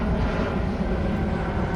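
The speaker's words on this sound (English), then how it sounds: "We got some aviation going on here." An aircraft flies overhead near an airport, a loud, steady engine roar filling the whole moment with no talk over it.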